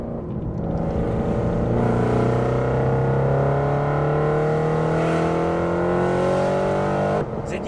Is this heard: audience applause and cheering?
no